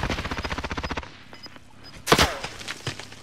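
Close, rapid automatic gunfire in Call of Duty: Modern Warfare, a fast regular burst of about a second, then scattered single shots and a louder crack with a heavy thud, with no talk.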